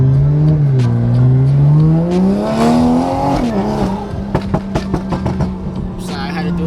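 A Toyota Supra accelerates hard, its engine note rising in pitch through a long pull before dropping with a shift, followed by sharp popping bursts from the exhaust, loud and close.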